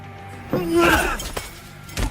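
A glass shatters over someone's head in a bar fight, one sharp crash with shards spilling out amid loud voices and commotion.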